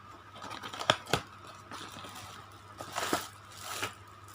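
Scissors snipping open the plastic packaging of a cheap JBL-branded headset, a few sharp close cuts and crinkles in a quiet room, with two bursts of cutting.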